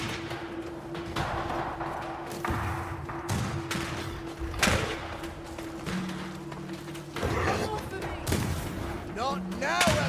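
Gunfire from defenders during a spectre attack on a fort in the video game The Banisher, heard as scattered shots and thuds under shouted voices and a steady in-game musical drone.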